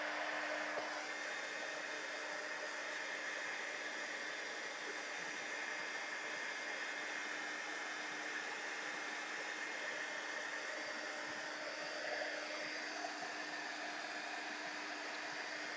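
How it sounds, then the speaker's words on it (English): A heat gun blows hot air in a steady, even whoosh with a constant whine underneath, heard alone at moderate level for the whole stretch. "You want to move the heat gun around because you don't want to concentrate it"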